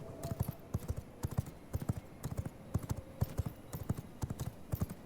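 Horse hooves clip-clopping in the video game V Rising, a steady close rhythm of sharp paired hoofbeats repeating throughout at a trotting pace, with no voices.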